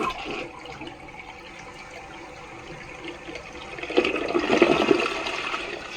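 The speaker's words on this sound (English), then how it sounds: "So for all the toilet fans, we're gonna go for a little flush here." A Gerber toilet fitted with a Bemis Statite lid flushes in a hotel bathroom, a steady close rush of water that swells louder near the end as the bowl drains and refills.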